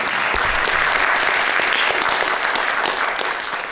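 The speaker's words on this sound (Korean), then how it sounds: "정말 좋은 강연 진행해 주신 민계식 회장님께 다시 한번 큰 박수 부탁드리겠습니다" Sustained applause from a large lecture audience, dense and even throughout, easing slightly at the end.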